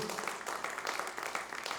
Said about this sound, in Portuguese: Pode aplaudir com força, gente.